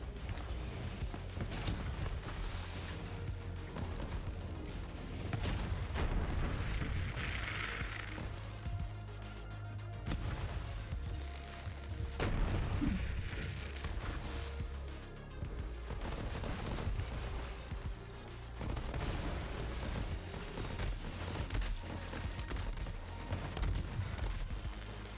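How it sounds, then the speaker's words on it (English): A chain of explosions rumbles and crashes continuously in a video game, a shooter-looter endgame fight with many ranged enemies, dense and loud throughout with no talking. "Chain of explosions there."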